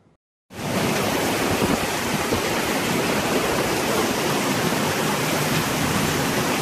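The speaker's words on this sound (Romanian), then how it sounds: "Clujul s-a aflat astăzi sub asediul ploilor." Heavy rain pouring and flooding streets in Cluj, a dense, loud, steady roar of falling water that starts abruptly and continues without break.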